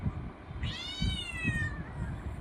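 A cat gives one clear, drawn-out meow of about a second, close by and fairly loud, over a low background rumble with soft thumps; it comes from one of several cats that were woken while sleeping.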